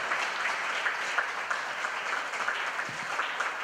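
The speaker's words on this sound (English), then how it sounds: "Give him another round of applause" Steady applause from an audience, dense clapping sustained throughout at an even level with no pauses.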